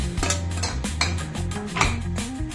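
A utensil scrapes and clanks against a pot while potato and green peas kurma is stirred, giving repeated close, uneven metallic knocks and scraping strokes with no voices.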